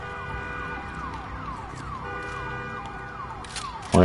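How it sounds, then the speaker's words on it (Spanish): An alarm in the video game Days Gone wails in rising and falling siren sweeps, loud and continuous, ending with a sudden louder burst. "La alarma sonó."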